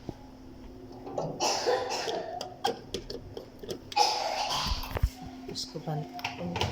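A child coughs several times in sharp, separate bursts close by, with faint clicks and a steady low hum in the room.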